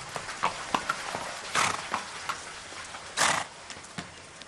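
Horse hooves clip-clopping at a moderate pace, with a couple of louder scuffing bursts, set in a dramatized scene of a Spanish rider confronting the Inca ruler, heard fairly softly with no speech.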